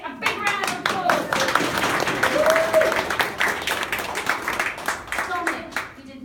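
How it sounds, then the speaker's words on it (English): A tour group inside the Britannia Mine applauds a boy, a lively round of hand clapping with distinct individual claps echoing in the underground space, and children's voices mixed in. "Let's give Dominic a big round of applause."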